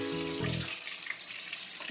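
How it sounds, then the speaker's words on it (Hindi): Fish pieces shallow frying skin side down in a pan give a steady close sizzle, with a brief low tonal hum near the start before the frying hiss settles on its own. "ये आप देख सकते हैं ये पीसेज हैं फिश की जो मैं फ्राई करने लगी"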